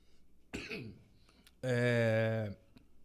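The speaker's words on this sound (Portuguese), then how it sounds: "A tosse tá chata." A person coughs a few times in a quiet room during a Portuguese-language interview, a short burst of dry coughs followed by a longer harsh throat sound, near and fairly loud.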